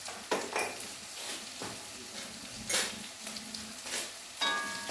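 Squid roast is stirred in a pan, with uneven scrapes and clinks of a spoon against the metal over a faint sizzle, a few sharper strokes standing out, close and with no speech.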